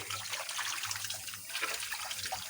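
Cleaned singhi fish are rinsed under water, a soft, continuous trickle and splash heard faintly and close by, with no talking.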